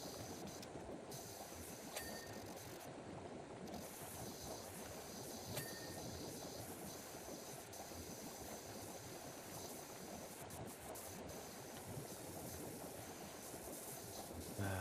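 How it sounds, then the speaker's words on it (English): A train runs in the Wallace and Gromit DLC of PowerWash Simulator, giving a faint, continuous rolling rumble that stays even and unbroken throughout, with no voices. "I had to start the train to get a trophy."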